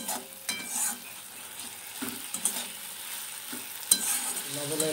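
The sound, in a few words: chopped tomatoes frying in a pan for katla fish curry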